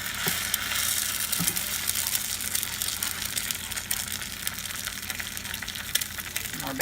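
An egg frying in bacon grease in a pan, giving a steady, close hiss and crackle with a few small pops throughout and no talking.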